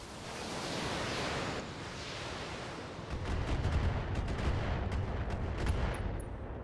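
Heavy mech weapons firing at a target in a video game, a dense roaring barrage that grows louder and rumbles harder partway through, with sharp crackling bursts toward the end.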